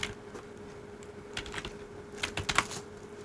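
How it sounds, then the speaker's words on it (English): Keys are tapped on a Windows computer's keyboard, a few scattered faint clicks early on, then a quicker cluster of crisp keystrokes near the end, quiet and close. "go to start and type color filter"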